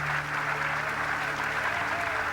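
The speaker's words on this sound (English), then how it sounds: "An extremely loud applause here in Mission Control." Extremely loud applause fills Apollo 13 Mission Control as the spacecraft descends on main chutes, a dense continuous wash of clapping with a low hum beneath it.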